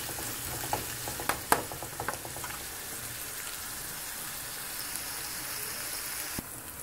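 Onion and tomato masala is stirred in a frying pan, a soft continuous sizzle with a few scraping stir clicks early on, close and fairly quiet, with no voices.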